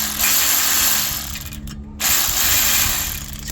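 A cheap power impact tool cracks off bolts on an engine being stripped from a Mk2F Polo, giving a loud close mechanical rattling whir that cuts out briefly before restarting.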